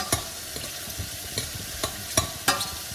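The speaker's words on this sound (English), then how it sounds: "the mushrooms can cook slowly" Mushrooms sizzling in a pan with a steady hiss while a utensil scrapes and stirs them in several sharp clacks, close by.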